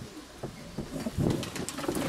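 A black De Laat line pigeon with glass eyes gives soft, low coos close by, a few short repeated phrases in a quiet room.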